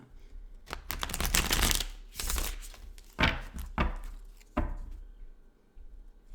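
Crisp bursts of tarot cards being riffled and shuffled, several quick flurries with pauses between, close and fairly loud with no talking.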